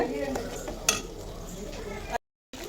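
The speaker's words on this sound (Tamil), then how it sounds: "நல்லா மிக்ஸ் பண்ணிக்கோங்க." Masala being stirred into tomato sambar in a cooking pot, a steady scraping stir with one sharp utensil clink against the pot, close and moderately loud, ending in a brief silence.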